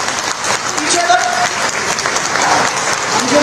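A crowd at a political rally claps loudly and steadily throughout, a dense wash of applause with voices mixed in.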